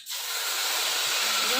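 Ginger, cumin and onion dropped into hot oil in a pan burst into a sudden loud sizzle that stays as a steady, close hiss.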